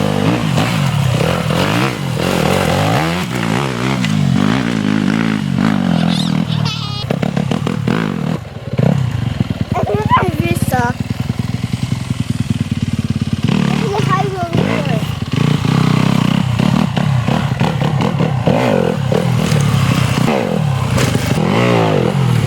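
A trials motorcycle working over obstacles in a trials park, engine revving and blipping with clattering and scraping as the bike lands, while someone talks over it throughout.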